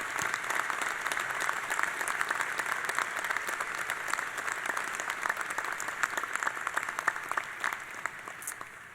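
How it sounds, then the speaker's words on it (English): Audience applause at a university presidential inauguration ceremony, greeting music performed by the music department; a steady, dense round of clapping from a large crowd, sustained and fairly loud for the whole stretch. "please join me in a round of applause for the outstanding music performed today by our Department of Music"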